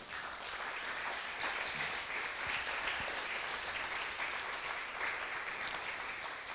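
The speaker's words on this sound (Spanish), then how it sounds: "Dale un aplauso fuerte al Señor." Applause rises from a church congregation during a worship service, a fairly faint but steady wash of many hands clapping that continues evenly throughout, heard from a distance.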